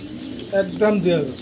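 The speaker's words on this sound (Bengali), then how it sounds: "দর্শক আমরা একজোড়া ধামাসিন কবুতর দেখতেছি" Low, soft cooing of a pair of Damascene pigeons, a few throaty rolling calls in quick succession, close by over a steady background hiss.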